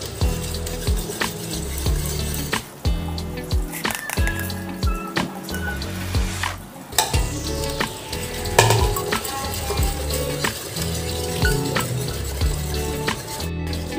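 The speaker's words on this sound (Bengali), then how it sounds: "আমি একটা কাটা দিয়ে এইভাবে ভালো করে আমটা দুধের সাথে মিশিয়ে নিচ্ছি।" Mango being stirred into milk for mango kheer doi in a village kitchen, with scraping and clinking of a utensil against a pot in irregular strokes, close and steady, no talk.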